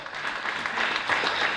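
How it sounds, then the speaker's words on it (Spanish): A church congregation at a Spanish-language service breaks into loud, continuous applause that fills the whole moment, dense and close with no pauses. "Un fuerte ese aplauso al Señor."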